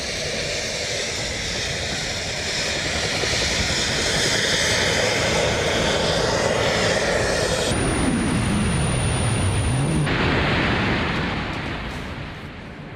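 A person flies in a jet suit, its jet engines giving a loud, steady roar throughout, with a brief high whine and a rising-then-falling pitch sweep partway through, easing off slightly at the end.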